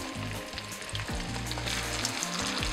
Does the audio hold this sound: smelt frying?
yes